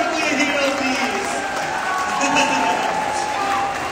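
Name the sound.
audience applause at orchestra concert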